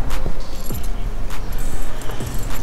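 BMW car keys jangle and clink close by in quick, irregular bursts, with faint rustling between them.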